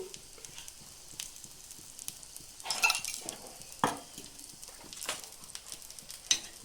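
Drops of ghee and oil sizzle in a pan of pineapple guliappa batter, with faint scattered crackles and a few brief louder spits over a quiet background hiss.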